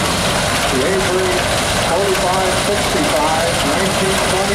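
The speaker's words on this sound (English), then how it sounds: "bring them out with a really good gas tractor" A 1926 Avery 4565 gas tractor engine at a steam and gas show parade runs with a loud, steady, droning rumble that continues throughout; a voice speaks over it.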